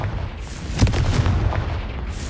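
A blasting-spell explosion from a Harry Potter video game goes off as one heavy, booming burst with a rumbling decay, loud and close, sitting within continuous game background noise.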